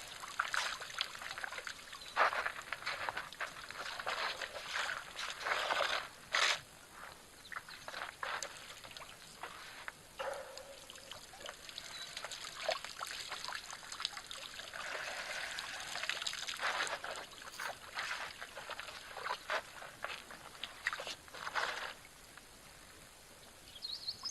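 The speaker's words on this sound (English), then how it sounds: "Something so nice and peaceful about the water trickling off their trunk." Water trickles and splashes intermittently off elephants' trunks at a waterhole, with a steady, moderately loud run of drips and pours and no talking.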